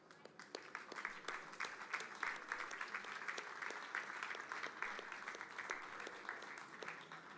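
An audience at an entrepreneurship awards event applauds steadily throughout, a dense patter of many hands clapping at moderate distance with no break.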